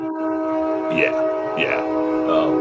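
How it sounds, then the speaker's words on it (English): A freight train rumbles past nearby with a long, loud sustained horn chord and squealing rail tones, while a voice briefly speaks over the din. "That freight train coming"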